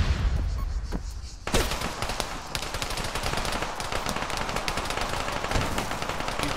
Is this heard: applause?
no